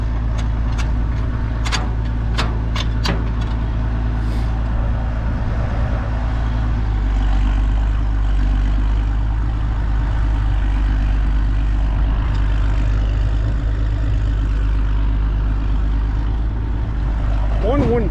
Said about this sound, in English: Let's get this enough throttle so it'll be above the idle point.